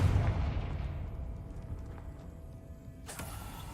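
A Confringo fire-blast spell explodes in the Hogwarts Legacy video game, starting as a loud boom and decaying into a rumbling tail. A sharp, brief crack follows near the end.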